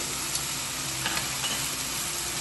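Green chilies sautéing in a pan for restaurant-style kadai paneer, giving a steady, even sizzle of frying with faint stirring ticks, close and continuous and without any voice.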